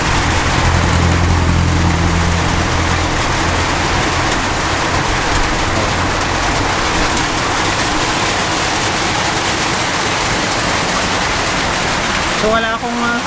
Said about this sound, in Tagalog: Ayan, malakas ng ulan mga ka-taker.